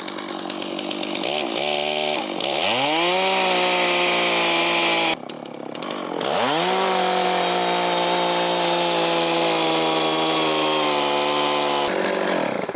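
A chainsaw cuts into a wet, rotten tree stump near ground level. Its loud, high-pitched engine whine rises and bogs down as the chain bites, with brief drops in power around mid-clip and near the end.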